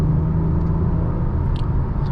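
A 2023 Acura TLX Type S with a 10-speed automatic gearbox cruising along, its steady low engine and road rumble droning continuously from inside the cabin, with no voices.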